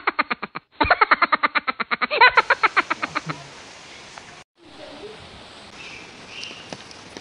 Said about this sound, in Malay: Numpang dekat sini lah mentara hujan ni.